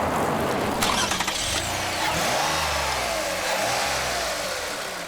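A 3.5-liter V6 in a 2008 Toyota Highlander revs and accelerates, the loud mid-pitched engine drone rising and falling in pitch across several sweeps with a brief rattle early on, no voices.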